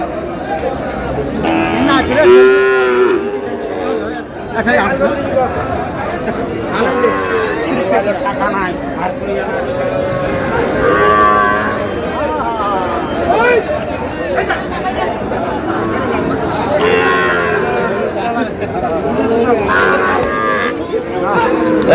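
Sahiwal bulls and calves at a busy cattle market low repeatedly throughout. Their moos rise at intervals over constant crowd chatter and bargaining voices, close and loud.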